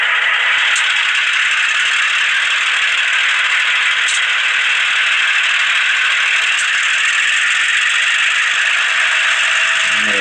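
An Atlas BN model locomotive with a LokSound decoder plays its engine sound under throttle, a steady, bright mechanical rattle and hiss held at an even level throughout, close and alone.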